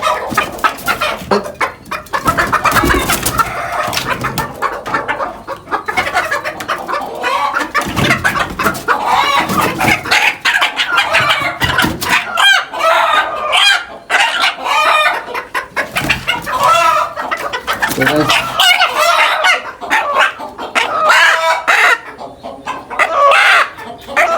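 A rooster clucking repeatedly and crowing, loud and close, with continuous fowl calls filling the whole stretch.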